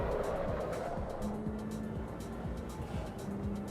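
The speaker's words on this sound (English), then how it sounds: "That rumble strip noise sounds like my stomach after cooking." Racing car in Assetto Corsa EVO, likely a BMW M8, running over a rumble strip: a steady low engine drone with repeated rhythmic low thumps throughout, and light talk faintly underneath.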